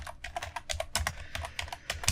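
Rapid typing on a computer keyboard, a steady patter of close, crisp keystrokes with short bursts and pauses, and no voice over it.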